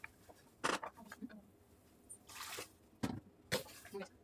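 Hot water, about a cup, poured into a pot of broccoli almond soup, giving quiet intermittent splashes and drips in a few short bursts, with no one talking.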